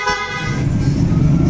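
Horn on a TMX 125 Alpha motorcycle fitted with a PIAA horn: one loud, close, continuous toot lasting the whole moment, with no talk.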